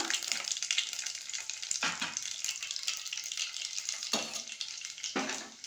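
Tempering of garlic and green chillies sizzling and crackling in hot oil, a continuous frying hiss broken a few times by stirring scrapes in the pan, with no talk.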